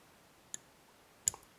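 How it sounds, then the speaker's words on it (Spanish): Two small, sharp clicks come from a lock mechanism while it is picked, the second slightly louder with a faint echo-like tick just after, set in quiet surroundings. "Primero ha hecho un clic."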